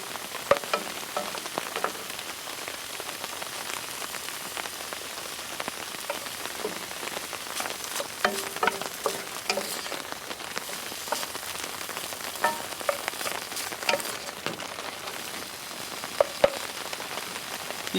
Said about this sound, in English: this is going to take a couple of hours just braising on top of the stove